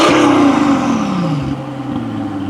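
A Mercedes-AMG C63 V8 revs through a newly installed exhaust with the valves open, a loud close bark that falls away into a deep burbling idle.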